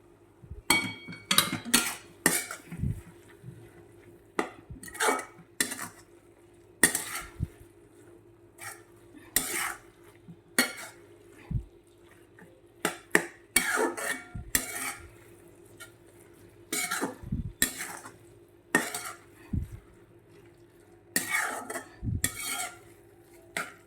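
Radish leaf curry being stirred in a pan after garam masala and coriander-cumin powder go in, with repeated scraping and clinking of a spoon against metal in irregular bursts over a low steady hum, close and fairly loud.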